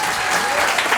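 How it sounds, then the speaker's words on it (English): A live audience bursts into brief, dense applause, a close, steady patter of many hands clapping at once. "You guys give her a round of applause tonight."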